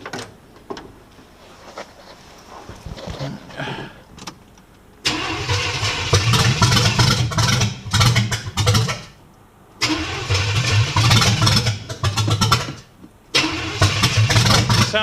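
A Pontiac Ventura engine idles roughly, then surges into loud, sustained revving in two long bursts with a brief drop back to idle between them, heard up close.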